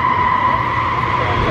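A car spinning its tires for a ride at a Cars and Coffee show in Anaheim, Orange County: a steady, loud, unbroken screech with engine roar underneath, holding at the same level throughout.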